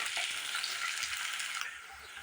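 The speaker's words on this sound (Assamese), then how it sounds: "পিঁয়াজখিনি মই ভালদৰে ভাজি ল'ম।" Onions fry in a pan for a black gram dal dish, giving a soft, steady sizzling hiss with a few stirring clicks. The sizzle drops slightly near the end, and no one speaks.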